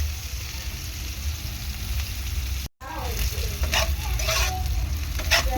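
Chopped onion frying in hot oil over a medium-to-high gas flame for a Bhola fish masala, a loud, dense sizzle that cuts out for an instant, then returns with crackling bursts and stirring scrapes.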